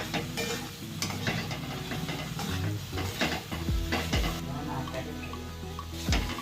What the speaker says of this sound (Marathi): आता आपण त्याच्यामध्ये मिरची पावडर टाकून घेऊया। हे एकत्र व्यवस्थित करून घेऊया।